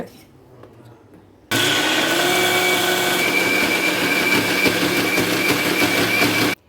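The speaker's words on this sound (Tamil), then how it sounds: "இப்போ நான் மிக்சியில் போட்டு இந்த பருப்பை நான் அரைக்கிறேன்" A kitchen mixer grinder grinds lentils for a traditional lentil-ball curry, starting abruptly with a loud, steady, high-pitched whir that runs about five seconds before cutting off, with no talking over it.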